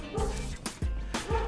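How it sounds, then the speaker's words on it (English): A pet dog barks excitedly in the background, a few loud separate woofs and yips in quick succession, close by and dominating the moment. "You're my fucking dog going crazy in the background"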